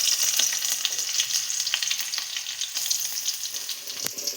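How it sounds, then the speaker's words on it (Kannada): Onion, two dried red chillies, curry leaves and fenugreek seeds frying in a pan for a fish curry, giving a steady close sizzle with faint stirring scrapes and clicks scattered through it. "ಆ ಈರುಳ್ಳಿ ಕಲರ್ ಚೇಂಜ್ ಆಗಬೇಕು, ಆ ಥರ ಫ್ರೈ ಮಾಡ್ಕೋಬೇಕು"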